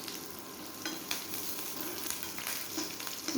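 Sliced shallots sizzle in hot oil with dried chilli and curry leaves, a steady close frying hiss with occasional crackles and stirring scrapes throughout.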